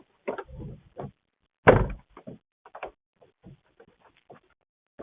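A Suncast resin garden shed door is swung shut with a loud hollow thud and clack, followed by smaller clicks and rattles of the latch being locked, amid light handling noises.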